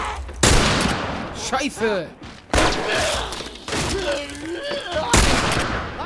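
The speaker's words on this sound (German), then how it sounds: "Jeder Schuss muss sitzen." Gunfire in The Last of Us Remastered on PS4, in a winter setting against infected, comes as several sharp, loud shots spaced across the clip, mixed with game sounds and a character's shouted speech.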